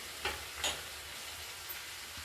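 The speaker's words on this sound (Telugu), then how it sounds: "కొంచెం ఉల్లిపాయ కొంచెం వేగాక క్యారెట్ వేసి బాగా వేయించి అప్పుడు టమాటా ముక్కలు కూడా వేసేసాను" Onion, carrot and tomato fry in a pan with a steady, close sizzle, broken by a couple of soft stirring scrapes.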